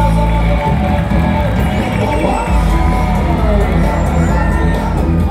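A dolphin-show audience at Dufan Ancol cheers and whoops loudly and steadily throughout, with children shouting and voices rising from the crowd.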